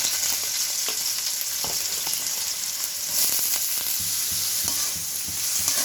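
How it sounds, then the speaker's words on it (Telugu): Onions with a little fresh coriander fry in hot oil for an egg pulusu, a steady bright sizzle broken by intermittent scraping stir strokes, close and continuous with no voices. "ఆనియన్స్ బాగా ఫ్రై అవ్వాలి"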